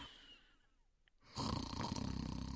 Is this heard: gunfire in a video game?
no